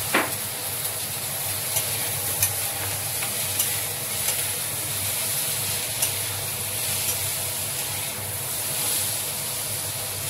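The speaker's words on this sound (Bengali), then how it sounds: "এরপরে দেখুন এটা শিমলা মির্চ, বিনস, পেঁয়াজ ভাজা হলো হচ্ছে" Capsicum, green beans and onion stir-fry in a hot pan with a steady, even sizzle, broken by faint scrapes and taps of a spatula stirring through the vegetables. No one speaks.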